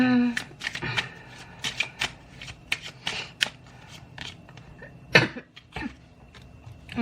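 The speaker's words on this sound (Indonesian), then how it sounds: "maaf ya, aku batuk" A few rough coughs break out among dense rustling and clicking handling noises, close by and fairly loud, with no talking.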